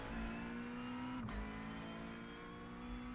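Steady engine drone of the new McLaren GT3 race car in iRacing at the updated Spa circuit, holding a sustained tone with a brief dip in pitch at a gear change before settling again, no talk.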